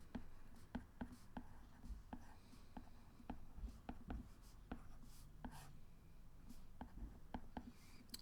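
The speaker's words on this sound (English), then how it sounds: "I'll write the sum here" Pen or marker writing out a maths sum, quiet scratchy strokes and small taps in an irregular rhythm, close and faint, with a low voice murmuring now and then underneath.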